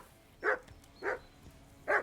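Mutt, a companion dog in a video game, barks three times in a moderately loud, evenly spaced series of short barks over a quiet background.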